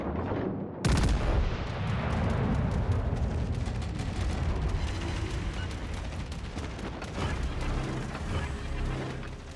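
Heavy naval guns in the World of Warships video game boom in a dense, continuous barrage, starting with a sudden loud blast and followed by rumbling volleys and mechanical clatter that fill the whole stretch.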